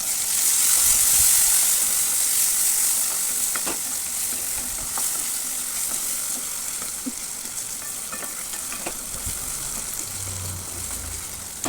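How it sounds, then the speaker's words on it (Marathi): Finely chopped tomato frying in a pan for a methi moong dal sabji, a steady loud sizzle with a few scraping stirs and clinks of a spoon against the pan. "त्याच्यात एक बारीक चिरून टोमॅटो टाकायचं आहे"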